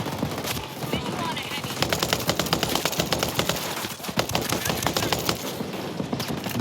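AK-47 rifle fire in Ghost Recon Breakpoint: sustained close automatic bursts of sharp rapid shots over a busy, noisy game background, with brief pauses between strings of fire.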